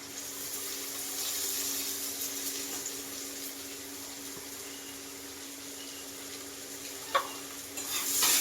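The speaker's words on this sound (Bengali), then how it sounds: "এই তেলের মধ্যে এক এক করে মশলাগুলো দিয়ে ডিমের তরকারিটা রান্না করে দেব রান্না করে নেব তো এই আমি দিয়ে দিলাম পেঁয়াজ কুচি" Chopped onion with a little green chilli sizzling in hot oil for an egg curry, a steady close frying hiss that runs throughout and swells slightly near the end, with one brief clink of utensil.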